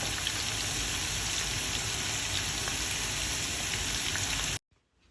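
Oxtails searing in vegetable oil over medium-high heat give a steady, dense crackling sizzle, loud and close throughout, that cuts off abruptly near the end.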